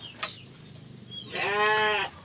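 A female horned sheep gives one loud, close, wavering bleat after a brief quieter sound, with no talking.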